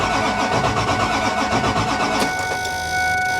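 A diesel car engine with glow plugs cranks on a booster pack, a loud rhythmic churning that catches and settles into a steady idle with a high whine.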